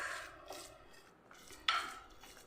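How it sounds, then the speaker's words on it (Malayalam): A ladle stirs rava mixed with jaggery syrup in a pot, soft scraping and rubbing strokes with a few light metallic knocks, quiet and close, with no talk. "ഇനി ഇതൊരു തവി വെച്ച് നമുക്കൊന്ന് നല്ല പോലെ ഒന്ന് മിക്സ് ചെയ്തെടുക്കാം"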